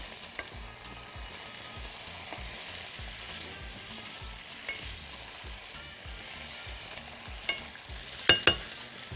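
Potatoes frying lightly in ghee and oil in a pan, a soft continuous sizzle with faint bubbling crackle throughout and a couple of louder utensil knocks near the end.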